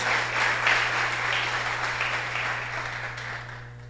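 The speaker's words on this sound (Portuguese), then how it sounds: "E dê um aplauso para sair. E se é para sair é mais forte o aplauso em nome de Jesus." A church congregation applauds, many hands clapping in a thick, continuous wash over a steady low electrical hum, loud at first and gradually tapering off.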